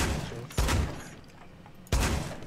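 Two sharp video game gunfire bursts a second or so apart, the first cutting off quickly and the second sustained, with no talking over them.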